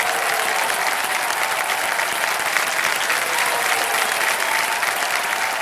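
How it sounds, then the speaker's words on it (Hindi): An audience claps on a TV quiz show, a dense, even wash of applause that holds steady and loud for several seconds without a break. "ताली बज जाए इनके लिए।"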